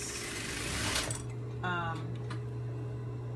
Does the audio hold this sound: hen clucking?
no